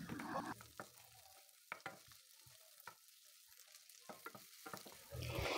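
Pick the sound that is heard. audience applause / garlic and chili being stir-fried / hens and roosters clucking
garlic and chili being stir-fried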